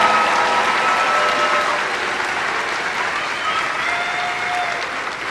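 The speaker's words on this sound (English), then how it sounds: "can I get a round of applause for this amazing class of 2021?" Loud, sustained applause from a large crowd at a high school graduation, dense and even throughout, with faint cheers mixed in.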